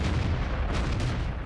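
A distant artillery shot booms in World of Tanks, a dull low-frequency thud that rumbles and trails off over about a second, with no talk.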